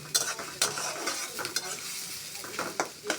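Chopped onions fry in a pan for a spiced goat meat bhuna, a steady crackling sizzle broken by repeated scraping strokes of a spatula every half second or so, close and fairly loud, with no voices.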